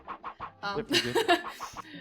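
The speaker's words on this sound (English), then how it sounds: "Wait, chicken's over here." Chickens clucking in the 102 Dalmatians: Puppies to the Rescue video game, a run of short, close clucks followed by a louder burst of squawking, then a few more clucks.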